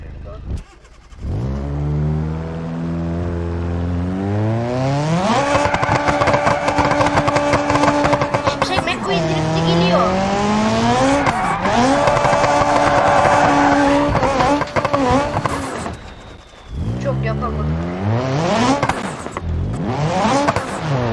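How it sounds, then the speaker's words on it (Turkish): A toy Lightning McQueen race car drifts with loud, continuous revving and screeching sounds that rise and fall in pitch for about twenty seconds, with brief dips between bursts. "Şimşek McQueen drifti atıyor biliyor musunuz?"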